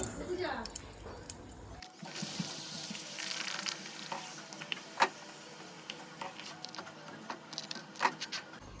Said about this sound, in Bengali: আর এখানে আমি এবার পাঁপড় ভেজে নেব।